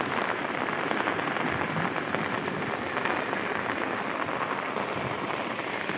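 Heavy rain pours steadily over farmland by fishing ponds, a dense, loud, unbroken hiss with no voices.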